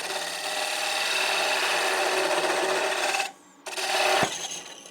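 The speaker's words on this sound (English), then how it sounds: "I'm going to switch to a little smaller spindle gouge, a 3/8 inch." A small 3/8 inch spindle gouge cuts wood on a lathe while a box is being turned, making a steady, bright rasping hiss. It breaks off briefly near the end, then resumes with a sharp knock.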